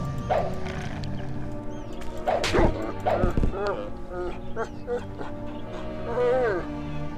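Dog whimpers and yelps in a video game, a few short whining cries over steady game music and effects, with a sharp burst of noise partway through.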